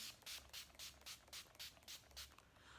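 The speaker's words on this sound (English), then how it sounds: "I will also do the setting spray" Quiet, rhythmic hissing bursts from a makeup setting spray nozzle, about eight short pumps in steady succession, close by with no talking.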